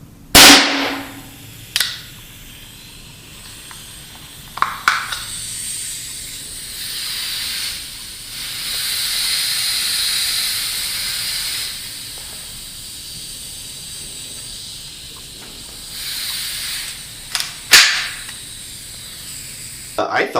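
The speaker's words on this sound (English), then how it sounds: "the source of that hissing was actually the CO2 cartridge" A CO2 cartridge in a gun hissing in long, steady breathy waves, punctuated by sharp gunshots that keep firing, with someone talking over parts of it.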